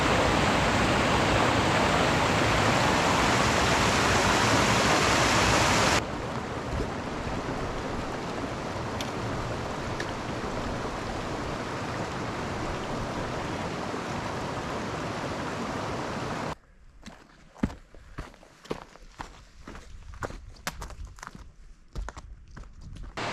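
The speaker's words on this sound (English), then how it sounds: "I've come to this little seasonal creek" A small seasonal creek in snowy wooded wilderness near Weaver Lake rushes steadily, loud and close at first, then softer and more distant, before close crunching footsteps take over near the end.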